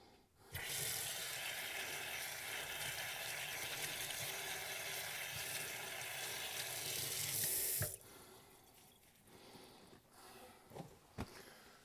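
Hands rinsed under a running sink tap while cooking an ostrich egg: a steady rush of water for about seven seconds that stops abruptly, followed by quieter handling noises and small knocks.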